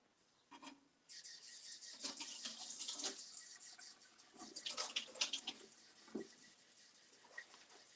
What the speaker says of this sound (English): I'm going to use my liquid measuring cup and get a cup of warm water.